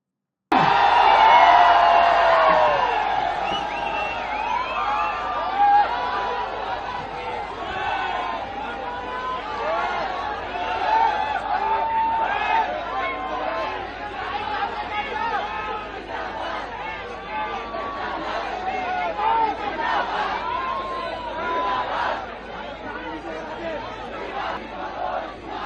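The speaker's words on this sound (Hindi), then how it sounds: "इतनी बड़ी भीड़ बेचारे को बहुत दिनों से नहीं दिखी थी।" Large crowd at a political rally with Aam Aadmi Party convener Kejriwal present, a dense, continuous roar of chatter and shouted cheers that swells loudly at the start and holds steady throughout.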